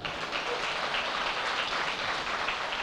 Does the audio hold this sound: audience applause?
yes